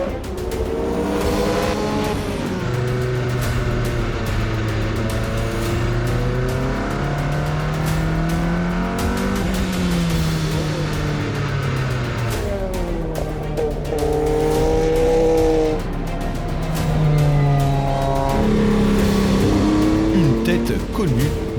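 Group C endurance race cars, among them Peugeot 905s and Sauber Mercedes, roar past on the circuit at Barcelona, with loud engine notes climbing and falling through gear changes over about twenty seconds.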